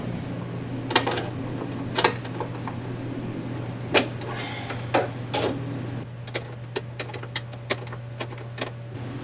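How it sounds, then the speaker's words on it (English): Wrench work loosening 10 mm bolts on the rear brakes of a Nissan 240SX: scattered metallic clanks and taps of tools at close range, ending in a quicker run of light clicks over a steady hum. "These are all 10 mil bolts. Just break them all loose first."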